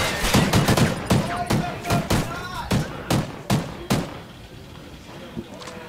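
Gunfire in Call of Duty: Ghosts during a tournament match, a rapid series of loud, sharp shots in bursts that thin out toward the end, with a commentator talking over them.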